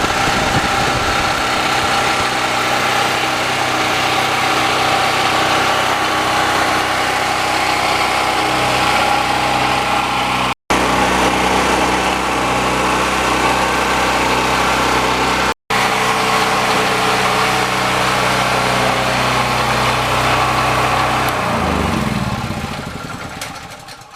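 A DuroMax 5500E portable generator engine running steadily just after its first start, a loud, even mechanical drone held close for over twenty seconds before dropping away at the end.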